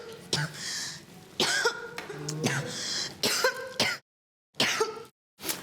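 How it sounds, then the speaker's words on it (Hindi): Harsh, close coughing in several separate bouts, with throat-clearing sounds and short silent pauses between them. "अरे बंद करे खांसी की आवाज"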